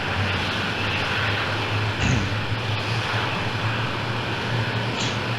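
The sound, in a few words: aircraft engine starting in Falcon 4 Allied Force video game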